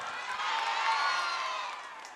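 Audience at a Maulid Nabi celebration stage show with a clown performer, a dense sustained crowd roar of shouting and cheering with clapping mixed in, steady and loud throughout.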